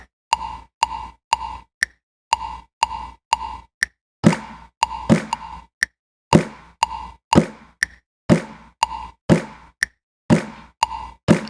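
A Korg Nautilus sequencer plays back a quantized pattern: crisp, evenly spaced clicky percussive hits with a short tonal blip, a steady ticking rhythm of sharp attacks and quick decays, clean and unaccompanied.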